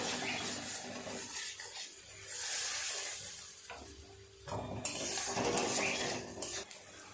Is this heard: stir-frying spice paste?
yes